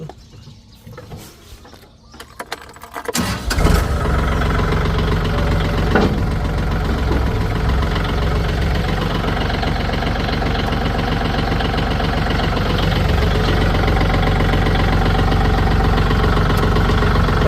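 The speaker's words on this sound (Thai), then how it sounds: "มาฟังเสียงเครื่องยนต์กันสักนิดนึง" After a few quiet seconds, the diesel engine of a 2019 Kubota L4018 tractor cranks and starts, then settles into a loud, steady, rumbling idle nearby.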